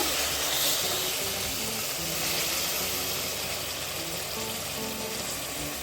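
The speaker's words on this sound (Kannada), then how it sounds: "ನೀರುಳ್ಳಿ ಫ್ರೈ ಆಗಿದೆ ಸ್ನೇಹಿತರೆ ಈಗ ಟೊಮೆಟೊ ಹಾಕೊಳ್ಳೋಣ" Tomatoes going into a pan of frying onions for Bhatkal-style mutton biryani, giving a steady close sizzle and hiss that runs evenly throughout with no talking.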